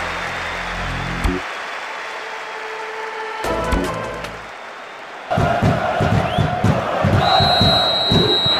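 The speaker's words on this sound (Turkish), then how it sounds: "sahada müthiş bir atmosfer var. Tezahüratlardan sesimizi duymakta zorluk çekiyoruz açıkçası" Stadium crowd in Pro Evolution Soccer 6 roars and chants loudly, with a brief drop in the middle before the noise swells back with rhythmic cheering and whistles.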